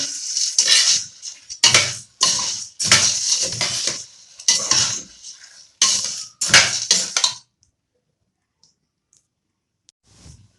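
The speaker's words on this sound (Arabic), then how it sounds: "نفضل نقلب ونستمر في التقليب لحد ما تحمر" Pasta being stirred and browned in a pan, with a run of clattering scrapes and clinks of a utensil against the metal, loud and close, ending in near silence.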